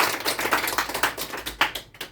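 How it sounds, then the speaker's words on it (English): An audience claps after a speech, a brief burst of close, brisk applause with irregular hand claps that fades out within about two seconds. "And let's applaud Ms. Medusa for her first"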